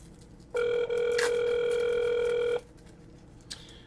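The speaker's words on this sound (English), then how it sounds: "We have a phone ringing." A telephone rings once with a steady electronic tone lasting about two seconds in a home kitchen during noodle cooking, fairly loud against quiet room noise.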